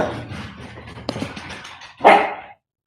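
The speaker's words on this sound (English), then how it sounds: "whoever came in, it woke up the dogs." Dogs woken by someone arriving bark and yelp indoors amid rustling background noise, ending with one louder close bark before sudden silence.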